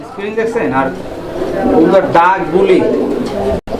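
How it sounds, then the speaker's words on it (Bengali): Pigeons at a bird sale coo in soft, repeated throaty calls close by, partly masked by someone speaking loudly over them. "দর্শক আমরা এই মুহূর্তে দেখতে পাচ্ছি এখানে আরো একজোড়া কবুতরের কালেকশন রয়েছে"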